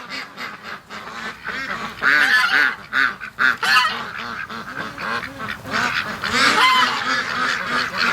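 Loud, busy honking and quacking from a group of ducks close by at a barn, calls overlapping continuously with no pauses.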